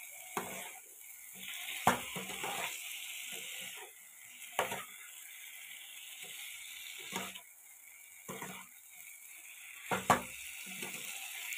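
Paneer cubes stir-fried in a pan, with a steady sizzle broken by sharp scraping and clattering strokes of a spoon every couple of seconds, close and moderately loud with no talking.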